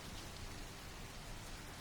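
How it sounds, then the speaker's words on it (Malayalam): Dense, even rain patters steadily on a surface, a constant wash of drops with no talking. "എന്തല്ലേ മഴയല്ലേ"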